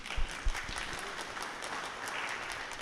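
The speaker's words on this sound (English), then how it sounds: "Please clap for Arlene" Short burst of clapping from attendees at a public community meeting, opening with a few louder individual claps before settling into a thin, even patter that fades slightly toward the end.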